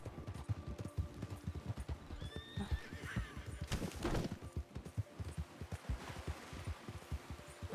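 Horses in the RedM western game whinny and neigh amid steady clip-clop hoofbeats, with a louder neigh rising near the middle over a busy background of ambient game noise.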